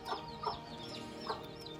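Free-range desi chickens with small chicks make a few soft, scattered chirps and short clucks, quiet and close, spaced out across a brief moment.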